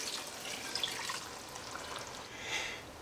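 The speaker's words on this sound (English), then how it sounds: "I'm also adding in 2 cups of water" Water pours steadily into a cooking pot for a one-pot cheesy beef taco pasta, a continuous bright splashing stream running alone at moderate loudness.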